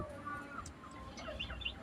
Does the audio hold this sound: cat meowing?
no